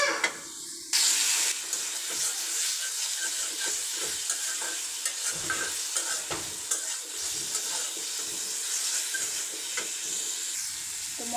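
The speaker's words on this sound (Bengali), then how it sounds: "এখানে আদা, রসুন, জিরা, হলুদের গুঁড়া, লবণ দিয়ে মশলাটাকে এখন কষিয়ে নেব" Spice paste of ginger, garlic, cumin, turmeric powder and salt sizzles in hot oil with a constant bright hiss. It is stirred, with soft scraping and a louder burst of sizzling early on.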